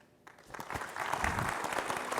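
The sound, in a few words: applause for a conference panel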